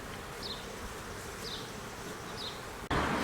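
Honeybees from a suburban swarm buzz steadily around a tiger-striped queen, a close continuous hum with a few faint passing whines, ending in a brief sharp thump.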